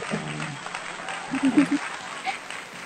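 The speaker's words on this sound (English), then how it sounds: "show your appreciation for Nikhil with a round of applause" Scattered clapping and cheering from participants unmuted on a virtual June 2023 course recognition ceremony, honoring Nikhil; uneven bursts with a few voices mixed in, moderately loud.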